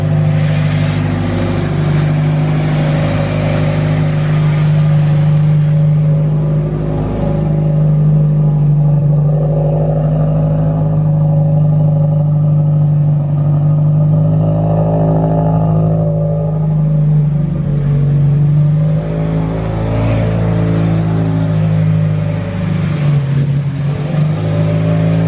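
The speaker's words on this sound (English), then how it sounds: "it hasn't been started in a while, so a little bit of a rough idle at first" A Subaru Impreza engine, not started in a while, idles roughly and loudly up close, with a steady low rumble that wavers unevenly throughout.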